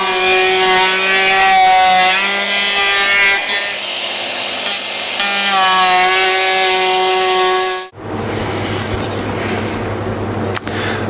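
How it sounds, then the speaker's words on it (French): A router with a quarter-round bit cuts edge profiles into wooden pieces, a loud continuous whine with shifting pitch that stops abruptly and restarts with a rougher, different tone. "sur toutes les arêtes, on va mettre un quart de rond avec la défonceuse pour que tout ça s'emboîte bien"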